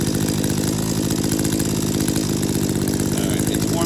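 An Echo PAS-266 powerhead's small two-stroke engine runs steadily after a carburetor adjustment, with a loud, even, buzzing drone close by that holds without a break or a change in speed.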